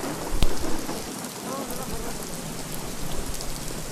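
Heavy cloudburst-like downpour in the Sinnar market area of Nashik, a dense steady roar of rain with low rumbling underneath and a few sharper knocks, continuous and loud throughout.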